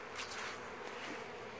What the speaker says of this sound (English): just about every hive here is full of bees